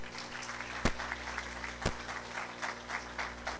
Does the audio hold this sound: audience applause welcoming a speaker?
yes